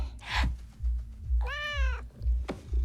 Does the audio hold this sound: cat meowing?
yes